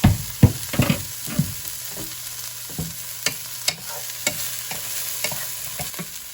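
A meat and vegetable stir-fry with broccoli cooking in a pan, a steady sizzle under clattering stirs and spatula knocks, several sharp strikes early then lighter taps, close and without speech.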